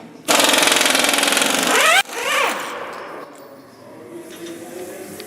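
An Astro Nano impact wrench removes car wheel nuts, one loud close buzzing hammer burst of about two seconds that winds down, then a shorter rattling burst fading into quieter background.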